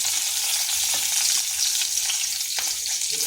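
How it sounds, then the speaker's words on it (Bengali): Black cumin seeds and split green chilies crackle and sizzle in hot oil, a steady dense frying hiss with a few sharp pops, close and fairly loud with no voices. "এরপর ওই তেলের মধ্যে দিয়ে দিচ্ছি কালো জিরা, দিচ্ছি 2টো কাঁচা লঙ্কা চেরা"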